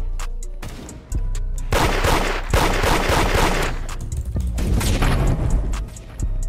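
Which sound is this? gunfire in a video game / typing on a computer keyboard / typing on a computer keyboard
gunfire in a video game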